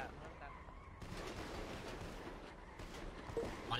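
Rapid bursts of gunfire in the video game GTA V crackle continuously at moderate loudness, mixed with voices talking over the shots.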